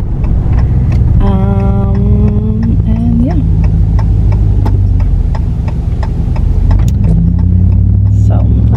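A truck driving on the road, heard as a steady loud low cabin rumble and road drone from inside, with a person speaking briefly over it.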